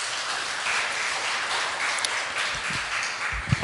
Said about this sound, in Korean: 하나님께 아름다운 찬양 올려드리는 우리 청년부에게 큰 격려의 박수 부탁드립니다